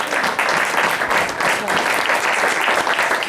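A church congregation applauds during a Sunday worship service, a dense, loud, continuous burst of clapping from many hands filling the room.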